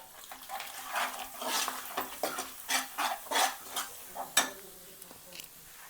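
Spice masala of Kashmiri red chilli, onion-garlic masala and coriander powder is sautéed in a pan for misal pav, with a fast, irregular run of spatula scrapes over a soft sizzle.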